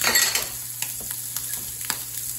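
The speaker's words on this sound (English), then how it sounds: "Finish browning off the sausage." Sausage browns in a frying pan with a steady, close sizzle, broken by a few soft clicks and scrapes from stirring.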